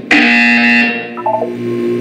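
A loud electronic buzzer from the video game Portal 2 blares in one sustained harsh tone, then drops away into a few fainter electronic blips.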